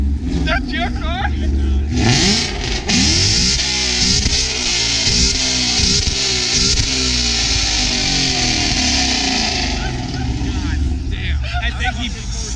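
A Ford Mustang EcoBoost with an aftermarket exhaust revs loudly and repeatedly close by at a car meet, rising and falling engine tones, with people talking over it.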